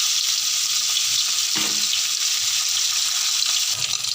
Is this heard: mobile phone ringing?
no